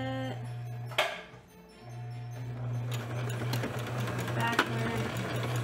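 A sewing machine runs steadily while stitching close to a folded edge on a fabric Christmas stocking, humming continuously with a short pause near the start and a few brief clicks over the motor.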